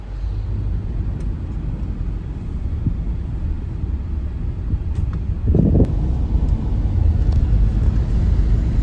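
A car drives along a narrow road lined with trees on both sides, giving a steady low rumble of engine and tyres with wind buffeting, and a brief louder pass midway.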